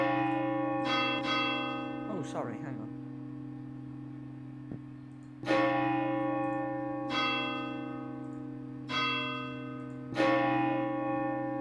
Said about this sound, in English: Ooh, that is quite a nice ting tang chime.